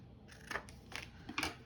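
Scissors trim excess paper off a handmade Halloween greeting card in three quick, quiet snips at close range.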